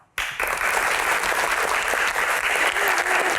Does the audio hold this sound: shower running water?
no